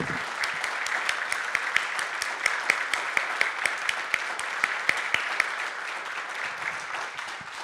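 Sustained applause from a church audience standing for a farewell to a departing couple, dense and steady with sharper individual claps popping out, continuing for several seconds at an even level.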